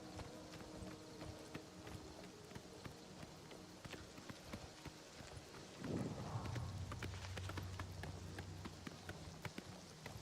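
Rapid, rhythmic clip-clop of a horse's galloping hooves in Elder Scrolls IV: Oblivion Remastered runs steadily throughout, quiet and layered with game ambient sound, with a low rumble joining midway.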